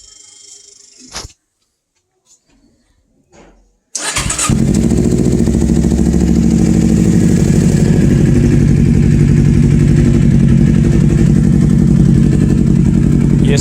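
A 2011 Kawasaki Ninja 250R with a loud aftermarket exhaust fires up after a few quiet seconds, then settles into a deep, throaty, steady idle rumble close by.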